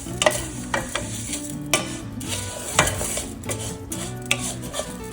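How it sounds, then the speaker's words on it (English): Rice is stirred in olive oil in a pan for risotto: a steady low sizzle with repeated scraping and clinking of a utensil against the pan, close and loud, no voices. "I'm gonna go ahead and start stirring the olive oil"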